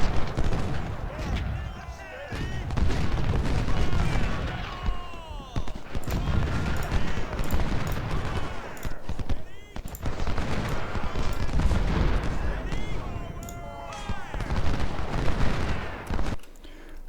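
Cannon blasts and rolling musket volleys from a Civil War battle in a strategy game, the Confederate side fighting at Mansfield, crackle and boom without pause, loud and dense throughout.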